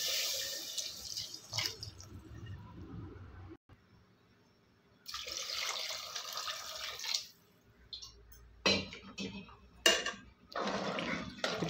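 Water poured into a pot of sambar being cooked with sautéed vegetables and masala, coming in several bursts of splashing and pouring, with brief quiet gaps between them.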